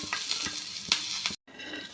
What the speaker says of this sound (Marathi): त्याच तेलामध्ये आपल्याला कांदा परतून घ्यायचा आहे